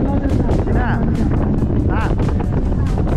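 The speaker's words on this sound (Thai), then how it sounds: "ลมแรงมากเลยครับ" Strong wind at the Khao Yai Thiang reservoir buffets the microphone in a steady roar, with someone talking over the gusts throughout.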